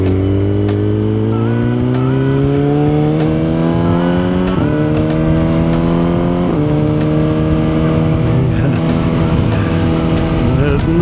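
A 1000cc superbike engine idles and revs in a loud, continuous drone, pitch climbing slowly with a few short blips, recorded up close outdoors.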